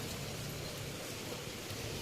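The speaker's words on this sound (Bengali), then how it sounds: "ভালোই বৃষ্টি হচ্ছে দেখো কিরম বৃষ্টি হয়েছে" Heavy rain pours down outside during a storm, soaking the road: a dense, steady hiss that fills the whole clip at an even level, with no voices.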